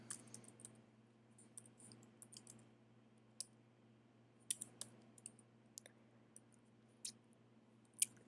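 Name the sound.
typing code on a computer keyboard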